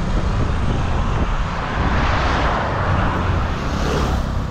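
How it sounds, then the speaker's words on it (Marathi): Vehicle passing on a rural road, a loud continuous rumble of engine and tyre noise that stays close and steady throughout, with no talk. "बघतो आता एक गाडी आली"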